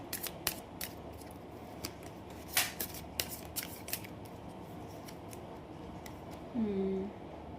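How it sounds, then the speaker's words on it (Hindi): A deck of tarot cards is shuffled by hand, giving crisp, irregular snapping clicks, some sharper than others, scattered over a quiet background, with a brief tonal sound near the end. "जब तक मैं कार्ड शफल कर रही हूँ"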